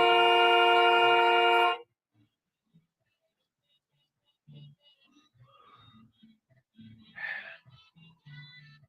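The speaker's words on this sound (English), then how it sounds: "You can't just honk and get in your way." A car horn blasts loud and steady for nearly two seconds, then stops, leaving quiet with scattered voices talking afterward.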